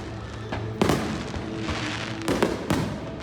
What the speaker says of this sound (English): Y'all actually thought I was gonna leave y'all and not show y'all the fireworks?